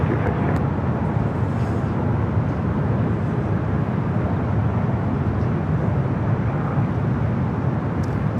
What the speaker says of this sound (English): Latam Airlines 603 taking off to Santiago, Chile on the 787-8 Dreamliner.